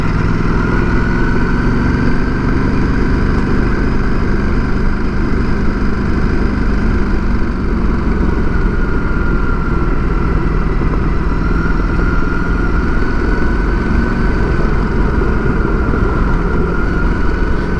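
An adventure motorcycle drones continuously while riding on a seasonal rough road with big washboards, the engine note loud and close, steady throughout and blended with rushing wind noise.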